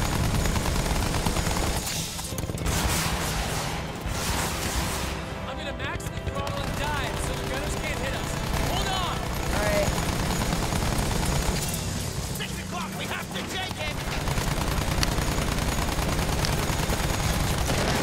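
Battlefield 1 gameplay gunfire: dense, continuous bursts of rapid shots and rattling weapon fire with booming blasts mixed in. A voice talks over the fighting.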